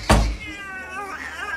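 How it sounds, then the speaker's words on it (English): A cat gives one short, fairly quiet meow at close range in a domestic indoor setting, followed by faint room noise. "Mad that we got another cat?"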